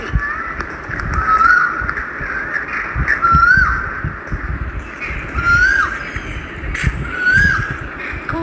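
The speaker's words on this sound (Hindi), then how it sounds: "देखो क्या आवाज़ है कोयल की।" A koel calls repeatedly at a historic site in Delhi, about four clear rising whistled phrases spaced a couple of seconds apart over outdoor ambience with some rustling.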